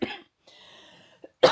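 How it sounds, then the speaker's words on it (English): A woman coughs hard and close at the start, pauses through a quiet stretch, then coughs again loudly at the end, with one short throat sound between. "I'm still coughing."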